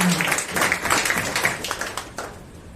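A congregation at a Sunday Kannada worship service in a Nazarene church applauds to welcome guests, with dense, close clapping from many hands that gradually thins and softens.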